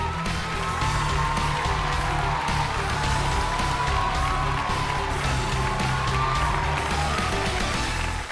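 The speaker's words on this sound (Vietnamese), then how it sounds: "Một tràng vỗ tay để chúng ta đến với căn phòng số 5" Loud, steady applause and cheering from a studio audience at a Vietnamese comedy game show, a dense wash of clapping with scattered whoops sustained throughout with no talk over it.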